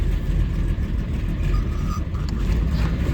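A rough-running Eagle car backs slowly into a garage, its engine a steady mid-pitched drone with low rumble and some tire grab, close and loud throughout.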